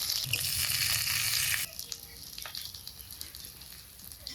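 Pieces of rohu and catla fish fry in hot oil in a home kitchen, giving a loud, steady sizzle that drops suddenly partway through and then carries on as a quieter crackle with a few clinks.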